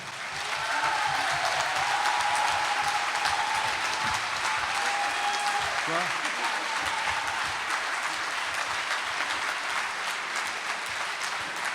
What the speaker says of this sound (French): ce que je vous demande d'applaudir, c'est vous-même et en même temps tout le comité